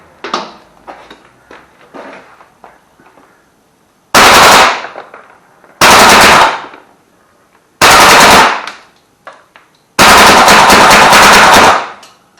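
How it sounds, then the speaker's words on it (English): An Army Armament R36 rifle fires on full auto in cold weather, emptying its magazine in four loud, close bursts of rapid shots separated by short pauses, with quieter handling clicks before the first burst. "We're just going to see if we can get away with auto dumping the rest of this magazine"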